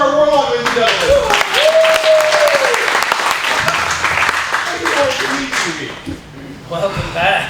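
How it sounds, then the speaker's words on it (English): Loud applause from an audience at an improv comedy show fills the whole stretch, dense clapping with cheers and voices mixed in, easing slightly near the end. "Round of applause for our warlock, ladies and gentlemen."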